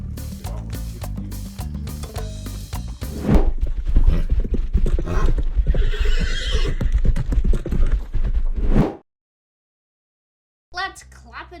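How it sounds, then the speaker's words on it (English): A horse and a mule on a family trip in Medellín, Colombia, make loud nearby sounds: repeated neighing and whinnying with rhythmic clip-clopping hooves. The noise stops abruptly into silence, then a brief sound returns. "that was the mule that he was trying to handle. That was trying to kick my horse."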